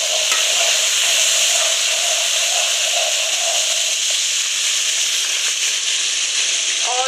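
Ginger-garlic paste frying in hot oil with browned onions for an aloo baingan curry, giving a steady, loud, close sizzle that holds through the whole stretch, with a little stirring noise near the end.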